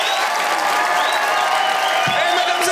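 Audience applause at a comedy club's dark-humour special night: steady, dense clapping throughout with some cheering mixed in, loud and continuous without a break.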